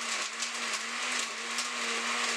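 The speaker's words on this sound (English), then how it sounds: "let's mix it so it's not too like thick for the blender head" A blender whirs steadily while mixing a thick milkshake, its motor holding a constant loud hum with a bright, noisy whine on top and no talk over it.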